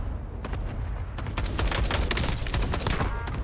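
Gunfire in the video game Call of Duty Warzone: dense, rapid bursts of shots layered over one another, growing louder midway and holding as a sustained crackling barrage.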